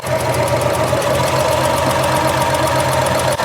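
Ford Escort ST170 engine idling roughly with unbalanced throttle bodies, a loud, close, continuous mechanical hum carrying a steady pulsing beat, heard alone without any talking.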